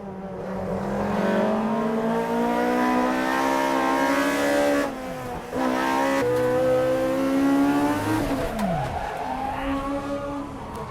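Toyota AE86 race cars battling at Tsukuba circuit in an N2 Cup race: loud, close engines rev and drop sharply under hard braking and downshifts, with tire squeal and rising revs as the cars accelerate again.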